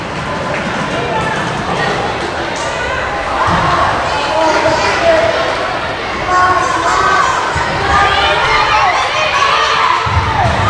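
Crowd of fans in a school gym at a JV girls basketball game, a busy mix of shouting kids, cheers and chatter with occasional running footsteps, with an announcer talking over the noise.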